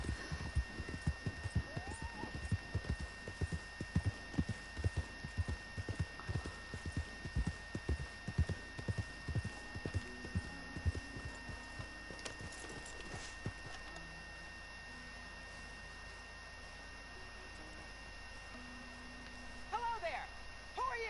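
Horse hooves clip-clop in a steady trotting rhythm beneath a low ambient hum in Red Dead Redemption 2, fading after about twelve seconds and leaving quiet background with a brief distant whinny near the end.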